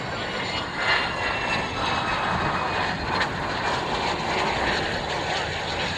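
Roar of Tornado military jets taking off from their base, a continuous broad rumbling engine noise heard from a distance, steady and fairly loud throughout with no talking.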